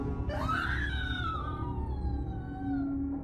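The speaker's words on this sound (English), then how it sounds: "somewhere in the distance, I thought I heard a scream." A distant scream sound effect in an Appalachian winter camping horror story rises sharply, then trails off in a long wavering wail over a low ambient drone.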